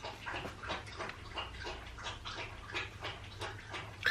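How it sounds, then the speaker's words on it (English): A dog laps water noisily from a bowl nearby, rapid wet slurping strokes in a steady rhythm, about a dozen laps with no talking. "She's really loud when she drinks her water and eats her food."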